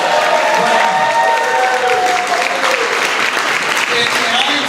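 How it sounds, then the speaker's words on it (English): A crowd gives a speaker a big hand at a community celebration event, loud, dense and continuous applause filling the room from start to finish with a few scattered cheers mixed in. "A big hand for Sarah"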